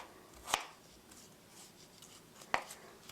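A knife slices through pear on a cutting board in two sharp, close cuts spaced about two seconds apart, with quiet room hush in between, for pear fried rice.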